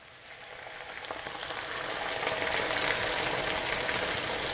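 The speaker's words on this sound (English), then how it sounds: "now we wanna go ahead and add our egg batter" Egg batter sizzles and fries with tortillas in a pan for green chilaquiles, a steady crackling hiss that grows a little louder and fuller as it goes.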